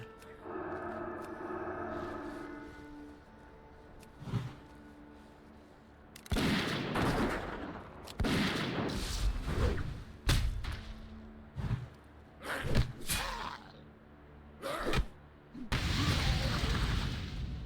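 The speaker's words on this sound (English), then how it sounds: "Explosions! More explosions!" Repeated explosive blasts and heavy thuds burst out in irregular bursts in the game Turtle WoW, some loud and sharp, with rumbling noise between them.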